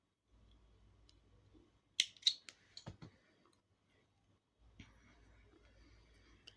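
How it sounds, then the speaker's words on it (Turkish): Scissors snipping thread during Turkish needle lace work, a few quiet sharp clicks and cuts in a short cluster midway, with soft handling noise before and after in a very quiet room. "Üstünü biraz işliyorum sonra kesiyorum ipimi."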